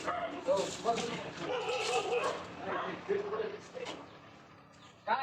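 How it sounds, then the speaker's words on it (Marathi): Dogs bark and yip in short bursts close by, with whimpering between barks and people talking over them. "कुत्रे भोकू राहिलेत"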